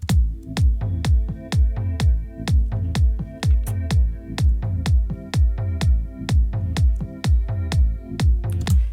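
Electronic dance track built on an Operator synth pad run through a saturator, chorus and sidechain, with a steady four-on-the-floor kick and bass pumping the pad in a regular rhythm, loud and upfront with no voices.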